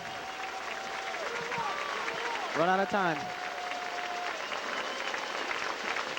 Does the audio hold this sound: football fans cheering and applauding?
yes